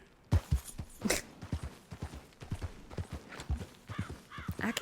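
A horse's hooves clip-clop in steady, rhythmic strides in the video game Red Dead Redemption 2, fairly close and clear, with a brief whinny-like sound mixed in and no talking.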